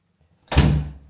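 A door in a Paris Airbnb apartment closes with one solid thud after a moment of near silence, close by, with a short fading rattle afterward.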